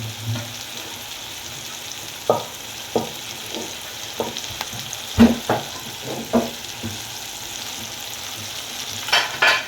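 Tomatoes fry with salt in a pan for a Marathi potato and pea curry, giving a soft continuous sizzle broken by several sharp stirring scrapes and clicks at irregular intervals.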